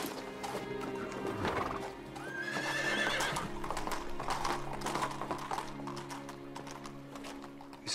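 Horse hooves clip-clop steadily throughout with a loud neigh partway through, set against a dense background of ambient sound and music, close and fairly loud.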